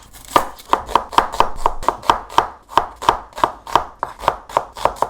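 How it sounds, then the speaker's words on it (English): A knife thinly slices two red onions in quick, regular strokes, each cut a crisp close tap on the board, about twenty evenly spaced chops with no voices. "I am just going to thinly slice 2 red onions."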